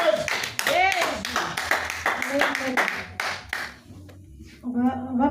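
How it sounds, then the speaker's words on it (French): A church congregation at a French-language praise and worship service claps rapidly and irregularly, with a voice speaking over the applause before it fades. "Est-ce que tu peux acclamer?"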